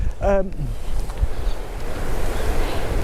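Strong wind buffets the microphone in a constant roar, with a brief voice at the very start, at a cold campsite in Glen Nevis, Scotland.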